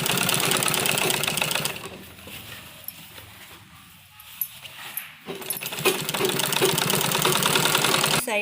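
A sewing machine stitching along the edge of a men's kurta whirs loudly up close, pauses for a few seconds of quieter handling noise, then runs steadily again.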